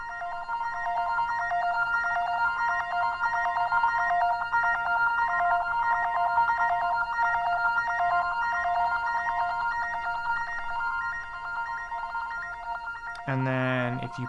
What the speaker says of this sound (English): this is the arpeggiator on the Moog Matriarch, running into some delay